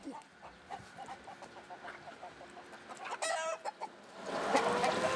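Chickens kept beside a lake by a fishing household cluck and chatter in a steady stream, close by, with a sharper squawk or call near the end over light background noise.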